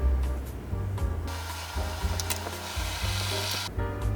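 Water pours steadily while coffee is stirred to prevent clumping as kopi susu is made, filled up to two liters; a close, hissing rush with rhythmic scraping knocks from the stirring.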